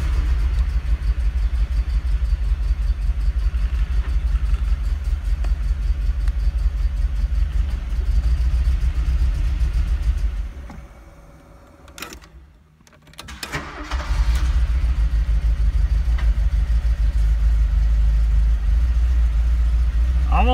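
An old four-cylinder car engine runs loud and close with a steady rumbling idle. It briefly dies away midway, then restarts and settles back into the same even running.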